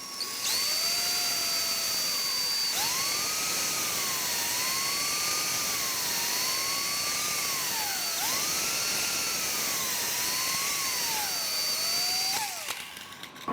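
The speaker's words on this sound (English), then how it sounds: "we're going to drill a little bit and then remove the drill to clear the wood chips" A power drill bores into wood for the upper support of a quilt rack, its whine rising and falling through several repeated spin-ups and slowdowns, loud and close with no speech.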